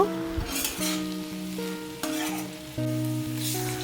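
Fried pointed gourd pieces sizzle and scrape in a frying pan with mustard spice paste as they are stirred, with tonal background hum throughout and no talking.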